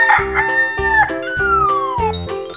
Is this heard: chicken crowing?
yes